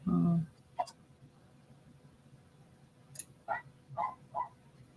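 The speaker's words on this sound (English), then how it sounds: "my neighbor's dog making a lot of noise." A dog barks a few times, faint and some distance away, with short sharp yelps spread over a few seconds in a quiet room.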